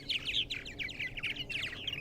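Purple martins on eastern Long Island, New York, chirp and chatter in quick overlapping bursts, a busy flock calling continuously at moderate distance.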